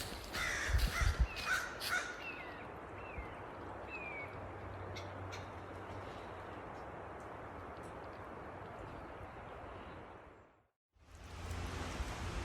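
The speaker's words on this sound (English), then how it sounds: "Hear the birds." Crows caw in a quick cluster of harsh calls at the start, then a few scattered caws over steady rushing water or wind noise.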